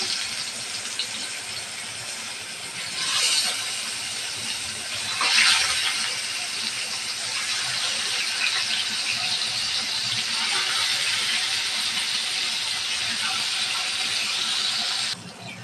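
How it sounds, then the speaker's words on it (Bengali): Koi fish frying in hot oil in a pan, a steady broadband sizzle and hiss that swells briefly near the start and holds for about fifteen seconds before cutting off, with no talking. "তেল গরম হয়ে গেছে, দিয়ে দেব মাছ।"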